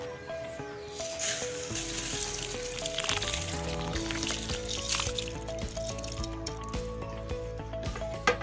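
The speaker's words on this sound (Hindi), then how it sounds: "अब मैं चावल डाल रही हूँ।" Rice is tipped into a pot of boiling water in a home kitchen for biryani, giving a soft, continuous wet bubbling and slushing that stays fairly quiet.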